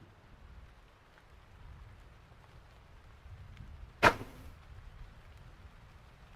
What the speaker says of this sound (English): It's raining cats and dogs.